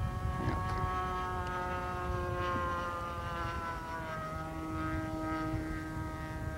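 A Formula 1 or Quickee 500 RC pylon racing airplane passes overhead with a steady, high, buzzing propeller whine that holds for several seconds, its pitch drifting slightly as it goes by.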